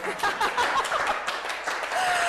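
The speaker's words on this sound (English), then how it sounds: "you can clap for me, please" An audience claps at the end of a lecture, a dense, fairly close patter of many hands that carries on throughout, with a voice briefly heard near the end.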